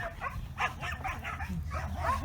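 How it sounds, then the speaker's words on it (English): Dogs fighting on a farm, with repeated sharp yips, whimpers and short barks coming in quick overlapping bursts, all over a steady low rumble in the background. "You can hear the dogs are fighting."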